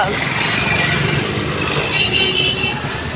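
Busy street traffic on Buffalo Street in Kottaimedu, Coimbatore: a loud, continuous wash of engines and passing vehicles, with a faint horn toot and nearby voices underneath.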